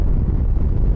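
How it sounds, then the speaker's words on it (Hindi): Strong wind buffets the microphone while riding a motorcycle on a mountain road from Jibhi to Sarahan in India, a loud, steady low rumble with no voices. "इतनी तेज़ हवा चल रही है ना"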